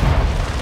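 A loud, deep explosion in a first-person shooter match, a heavy booming burst with rumbling low end that fills the whole short moment, standing alone without talk.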